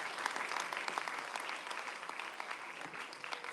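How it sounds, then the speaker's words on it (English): Audience applause for the debaters at an English debate competition grand final, a faint, distant wash of many hands clapping steadily with scattered sharper claps. "let us give a big round of applause to all of our debaters for today"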